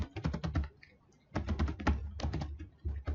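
Quick bursts of keystrokes on a computer keyboard entering a password, close and crisp, in two or three short runs separated by brief pauses.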